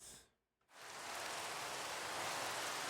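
Steady rain in a video game, a dense even hiss that cuts out briefly near the start and then returns loud and unbroken.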